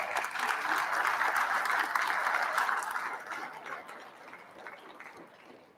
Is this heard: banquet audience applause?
yes